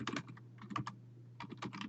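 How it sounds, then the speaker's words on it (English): Fingers type on a computer keyboard in quick bursts of crisp, close keystrokes with a short pause in the middle, quiet and without any talk. "this is where we can start typing our text for the beginning of the story."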